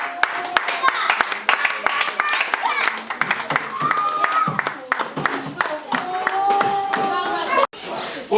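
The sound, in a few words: applause, people clapping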